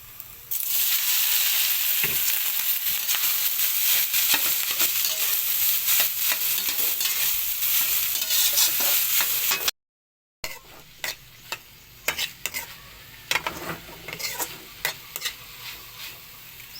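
Eggplant omelet ingredients sautéing in a pan with a loud, steady sizzle and stirring scrapes, then after a brief cut softer, intermittent sizzling with scattered utensil clicks.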